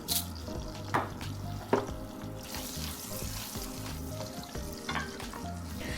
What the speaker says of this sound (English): Garlic is just starting to simmer.